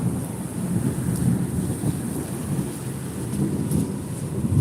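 Rumbling thunder from a nearby lightning strike rolls continuously through a rainy storm, a steady low roar with soft swells rather than a sharp crack, heard without any talking.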